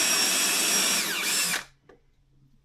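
A power drill bores bolt holes into a rail past an insert, whining loudly and steadily up close, then stopping abruptly to near silence with a faint hum and a few small clicks.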